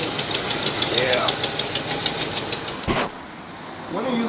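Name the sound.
1964 Chevrolet Impala engine running with exhaust manifold noise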